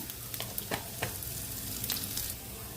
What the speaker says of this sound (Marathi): एक चमचा आपल्याला मोहरी घालून घ्यायची आहे छान दोन्ही भाजून देऊया